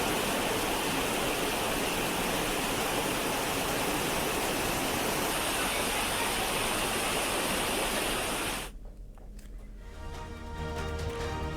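Sirvel Mahadev waterfall in flood during torrential rain in Khargone roars as a loud, steady broadband rush for about nine seconds, then cuts to a quieter stretch of lower water noise.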